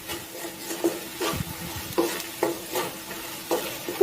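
Okra (bhindi) being stirred with masala in a frying pan: repeated scraping strokes of a spatula against the pan at an uneven rhythm over a soft continuous sizzle, close up and alone with no voices.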